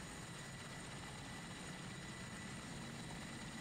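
Ka-50 and Mi-8 helicopters flying in a combat flight video game, a faint steady whirring rotor and engine drone with no clear rise or fall.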